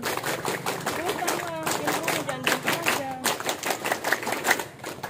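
A scout group claps fast in a patterned rhythm at a Scout Day ceremony, with many hands striking together and voices mixed in. The clapping sounds close and lively.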